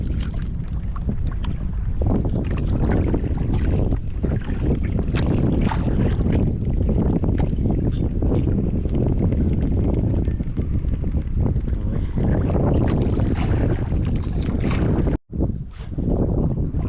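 Strong wind roars continuously against the microphone of a small fishing boat out on the water, loud and buffeting, with a brief dropout near the end.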